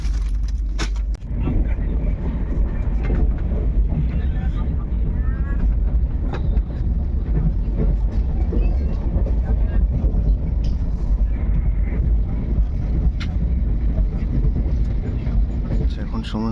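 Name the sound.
Kaziranga Express train running after leaving Malda Town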